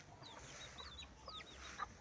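Hens and turkeys on an urban poultry farm give soft, scattered clucks and short calls, faint and somewhat distant against a quiet background, with no talking.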